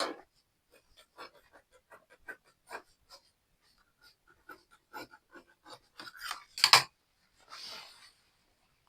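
Scissors trimming fabric while sewing a flare skirt. Close, quiet snips and rustling fabric come in an irregular series, with a louder crisp cut near the end.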